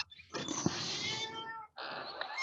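A pet cat, a female, meows twice close by, a long drawn-out yowl followed after a short gap by a second, shorter meow, loud and with no talk over it.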